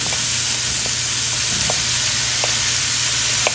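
Bitter gourd and sliced bell pepper sautéing in a hot pan for ginisang ampalaya, a steady close sizzle with faint stirring clicks, no voices.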